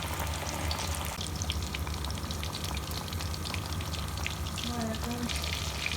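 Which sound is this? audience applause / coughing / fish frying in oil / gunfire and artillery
fish frying in oil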